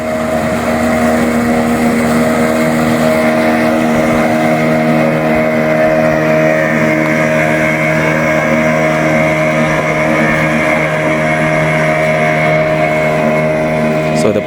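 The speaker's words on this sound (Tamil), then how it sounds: "வந்து ஒரு மோட்டர் போட்டில் இங்கேருந்து கூட்டிகிட்டு போகிறாங்க" A motor boat crossing floodwater in a flooded forest area, its engine a steady, loud, close drone with a constant tone that runs the whole time with no break.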